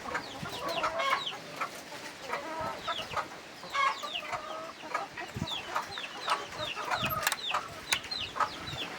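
Native chickens with their chicks on a farm, a steady mix of near clucking hens and high, rapid peeping from the chicks running through the whole stretch with no talk.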